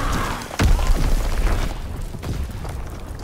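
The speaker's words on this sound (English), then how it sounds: "Enemy bomb inbound." A bomb explodes in a shooter video game, one heavy boom early on, followed by a rumbling, crackling tail that slowly fades.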